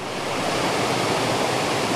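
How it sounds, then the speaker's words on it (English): A waterfall in an autumn setting roars as a dense, steady wash of broadband rushing noise, loud and unbroken throughout with no voices. "looking up at the waterfall with the beautiful yellows and oranges above"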